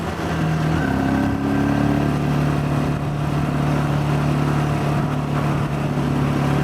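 A Geon X-Road light 250 motorcycle accelerates hard along a country road, its engine note climbing loud and close, then dropping briefly at a gear change before rising again under steady wind roar.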